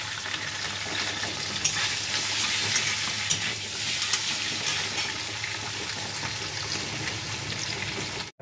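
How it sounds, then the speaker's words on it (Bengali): Paneer pieces go into hot oil in a pan and fry with a loud, continuous sizzle, with sharp spattering pops and light clinks of the utensil scattered throughout before an abrupt stop. "আর পনিরগুলো দিয়ে দিচ্ছি আস্তে আস্তে। তেল ছিটছে বাবা।"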